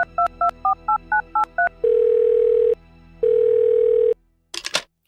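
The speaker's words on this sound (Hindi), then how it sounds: "अपना मोबाइल निकाला और किसी को फोन लगाते हुए कहा" A mobile phone call being placed: a quick series of dialing beeps, then two long, steady ringback tones with a gap between, followed by a brief crackly burst, clear and close.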